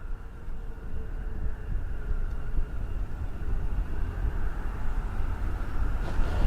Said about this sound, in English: That's the sound of more F-15s powering up for you right now.